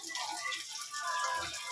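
Water is poured into a pan of pork, a soft, continuous splashing trickle heard up close at low volume.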